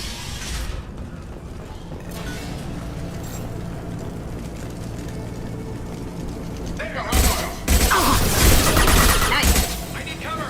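Sustained gunfire from Blue Suns mercenaries and Vorcha fighters in the Mass Effect 2 video game, a dense continuous fusillade that swells louder with sharp bursts and booms near the end.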